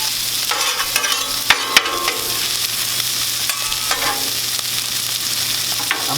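A breakfast mashup sizzling and frying on a Blackstone griddle while a metal spatula stirs and scrapes it, steady close hiss with a few sharp clanks and taps, no talking.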